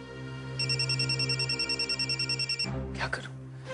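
A telephone rings with an incoming call in an indoor drama scene, a rapid repeating electronic ringtone pulsing steadily for about two seconds before it cuts off, followed by a brief clatter.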